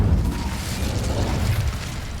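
An Incendio fire spell igniting dry vines in the video game Hogwarts Legacy: a rough, rumbling whoosh of flame bursts up and roars steadily for a couple of seconds, loud and close, with no talk.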